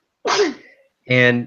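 A single sharp human sneeze bursts out close and loud, breaking into a brief spoken word right after.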